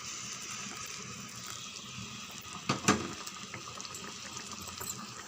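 Filtered jaggery syrup poured into moong dal dough for kozhukattai, a steady liquid trickle with a brief splashing peak midway, close and moderately quiet.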